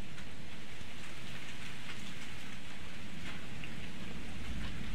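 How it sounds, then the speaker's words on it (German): A blood rain shower in the horror video game Outlast 2, a steady dense patter of rain with faint rumbling underneath, continuous and even with no voices. "Regnet das Blut?"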